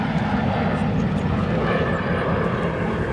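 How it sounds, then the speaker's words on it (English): An Austrian Airlines Boeing 777 rolls on runway 28 center at O'Hare, its jet engines giving a loud, steady roar heard up close with no break. "Now that Austrian closing out on runway 28 center. Flight 65 for this 777."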